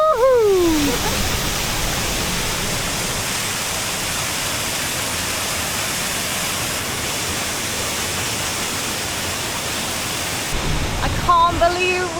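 A large waterfall in a hidden corner of Vietnam roars as a steady, broad rush of falling water lasting many seconds, with brief voices exclaiming near the start and again at the end.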